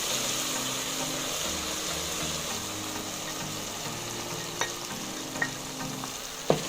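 Tomato paste frying in a pan for pilau, a continuous bright sizzle with a low bubbling rumble underneath and a few spoon scrapes and taps toward the end.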